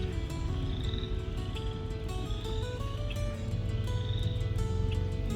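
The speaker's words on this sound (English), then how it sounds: "You hear the frogs." Frogs croaking steadily in a flooded spring field, a dense chorus of repeated calls at moderate distance, with insects trilling underneath.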